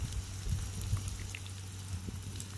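Garlic, tomatoes and chillies fry steadily in a pan, a soft continuous crackle and bubbling with a low hum underneath, close and moderately quiet, with no talking.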